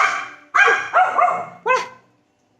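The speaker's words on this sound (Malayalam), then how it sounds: "പട്ടി" A dog gives several sharp, close barks in quick succession, then falls silent before a final short bark at the very end.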